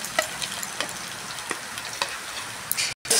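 Spice powders and mustard paste fry with onions in oil, giving a steady close sizzle broken by light stirring scrapes and ticks, briefly cut off near the end.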